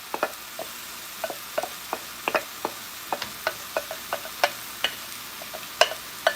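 Beef with peppers and onions in a pan, heard as a run of sharp scraping and stirring clicks at an uneven rhythm over a faint, steady sizzle in a home kitchen.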